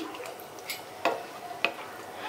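Whisked sour yogurt being stirred into cooked meat in a pot, heard as a few soft scrapes and clicks of a spoon against the vessel, fairly quiet and close, with no voices.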